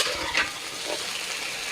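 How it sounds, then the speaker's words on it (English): Pecan chicken pieces frying in hot grease in a large pan, a dense, steady sizzle filling the whole stretch, close and fairly loud, with a brief stir or scrape near the start. "now we're sizzling and now we're cooking with grease"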